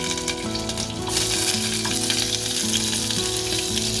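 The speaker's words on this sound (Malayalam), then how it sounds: "മുളക് ഇട്ട് കൊടുക്കുക വറ്റൽ മുളക് കുറവായതുകൊണ്ട് പച്ചമുളകും കൂടെ ഇട്ട്" Dried red chillies and green chillies sizzle in hot oil for Kerala-style jackfruit upperi, a steady dense fry that gets louder and fuller after the first second, heard up close without any voices.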